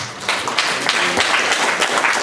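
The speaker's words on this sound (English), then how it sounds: "give Jesus Christ a round of applause on his behalf" Church congregation applause fills the space, a steady wash of many hands clapping at moderate volume throughout.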